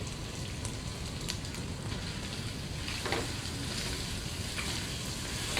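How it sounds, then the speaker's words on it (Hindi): Rice and stock frying in a pot for yakhni pulao, a soft steady sizzle and crackle with occasional stirring, fairly quiet and without talk. "हमने इसे बहुत अच्छे से फ्राई कर लिया है।"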